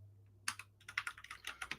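Computer keyboard keys clatter as a search is typed into Google, a quick run of sharp close taps after a brief quiet start, with no talking.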